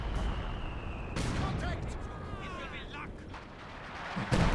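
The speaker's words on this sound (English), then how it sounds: "No, that's that stolen Axis mortar." Mortar and artillery fire thud across a Company of Heroes 2 battlefield, with shells whistling and booming between quieter gaps and a heavy impact near the end, while a caster talks over the action.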